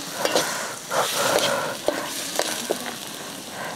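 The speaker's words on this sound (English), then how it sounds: "You stir the onion, and don't overcook the onion." Onions fry in a pan while being stirred for African kebabs, with a steady close sizzle broken by scraping spoon strokes and light clicks against the pan.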